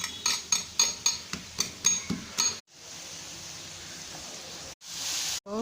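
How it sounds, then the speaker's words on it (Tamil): Garlic being pounded for cooking, about nine steady rhythmic thuds with a clinking edge, followed by a long steady hiss. "இப்போ நான் பூண்டுக்கு இடித்து சேர்க்க போகிறேன்"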